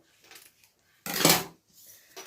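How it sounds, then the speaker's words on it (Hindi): A single short snip of scissors cutting away the extra part of a fabric piece while sewing a multi-pocket office handbag, close and crisp, with faint handling sounds around it. "अब जो ये एक्स्ट्रा पार्ट है इसको हम कट कर लेंगे"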